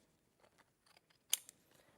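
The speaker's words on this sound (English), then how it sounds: "So let's just take our scissors" Scissors snip through a die-cut paper penguin shape in a quiet room: a few soft, small cuts followed by one sharp, louder snip, all close and faint overall.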